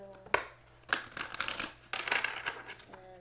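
Tarot cards being shuffled by hand: two bursts of crisp riffling and flicking, close and fairly quiet, separated by a brief pause, with no talking.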